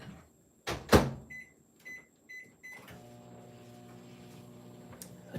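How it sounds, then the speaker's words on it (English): Microwave oven heating a marshmallow mixture for Rice Krispie treats: a loud door clunk, four short keypad beeps, then the steady hum of the oven running. "So pop this in the microwave for like 20 seconds"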